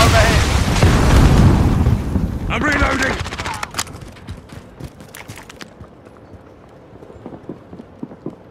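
Frag grenade detonation in Call of Duty Modern Warfare, a loud close boom with a rumbling tail, then scattered gunfire and clattering sounds that trail off into quieter action.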